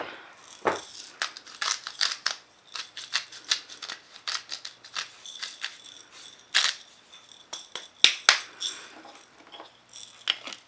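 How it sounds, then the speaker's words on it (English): A pepper grinder cracks fresh black pepper at a medium grind, producing close, dry, crunchy clicks and rasps in irregular bursts, with no talking. "pepper, fresh cracked. I think this is a medium grind."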